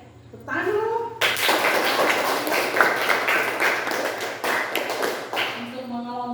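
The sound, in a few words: class clapping hands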